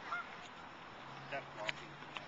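Faint, distant honking calls from ducks and a baby duck outdoors, a few brief calls over steady background hiss with no clear speech.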